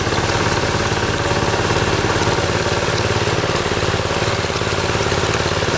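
A power trowel machine runs steadily on a concrete slab with its blades pitched up, a constant droning engine hum that stays close and loud throughout with no talking.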